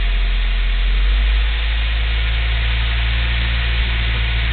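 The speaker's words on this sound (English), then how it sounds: "at about 1500 I'm having a little backfire too, or misfire. Out the exhaust." A car engine idles with a steady, loud rumble and vibration, with a faint irregular stumble in its rhythm from a misfire.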